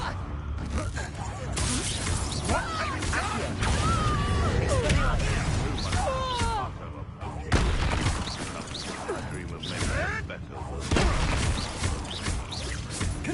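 Confringo blasting spells in Hogwarts Legacy, with repeated bursts and crackling impacts over busy game effects and a voice talking, loud and dense with a few sharper hits.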